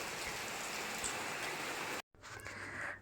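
Steady, dense rain pours down around an old village house in Tumkur, a continuous broadband hiss that cuts out briefly and then resumes slightly softer, with no voices.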